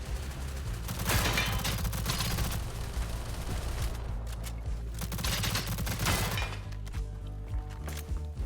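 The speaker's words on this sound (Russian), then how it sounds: "Слышу, как около меня происходит перестрелка" A shootout in the STALCRAFT video game, heard as repeated volleys of gunfire. The shots come in dense, clattering bursts with short lulls between them, and they sound fairly close and steady.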